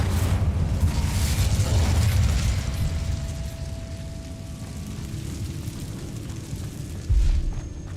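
A Confringo blasting spell explodes in the game Hogwarts Legacy, a heavy booming burst with a long rumbling roar that lingers, then a second thump near the end.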